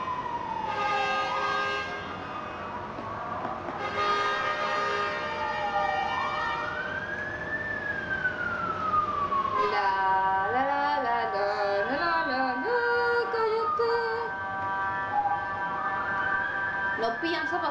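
A siren wails and yelps for a long stretch, rising and falling in pitch as a vehicle passes nearby, with horn-like tones layered in.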